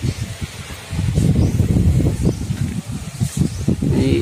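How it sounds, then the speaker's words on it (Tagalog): Strong gusty typhoon wind roars and buffets the microphone continuously, with rustling debris and a faint voice briefly audible underneath. "medyo malakas-lakas pa nga rin yung hangin"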